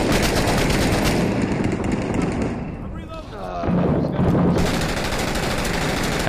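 Sustained automatic gunfire from a first-person shooter set in Fallujah, loud and dense across most of the stretch, easing briefly in the middle before resuming at full intensity; a voice may be faintly present beneath it.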